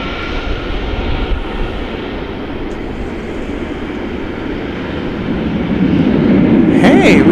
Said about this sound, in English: Hey, we've got a FedEx plane coming in.